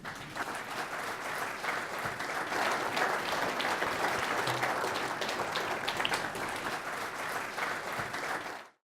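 Steady, sustained applause from a banquet audience welcoming the Southwest PGA Horton Smith Award honoree, a dense wash of clapping that holds evenly for several seconds before cutting off abruptly.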